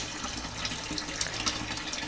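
Water running from a household tap, a steady close splashing flow with small gurgles, continuous for the whole moment.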